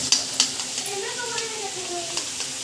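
Paneer bhaji frying in a pan with a steady sizzle, punctuated by a few sharp clinks and scrapes of stirring, close up; faint voices murmur in the background.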